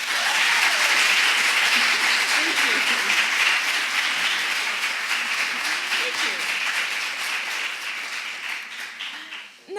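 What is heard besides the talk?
audience applause welcoming a speaker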